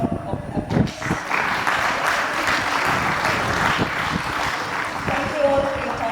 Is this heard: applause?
yes